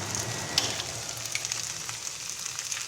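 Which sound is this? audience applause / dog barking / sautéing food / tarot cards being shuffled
sautéing food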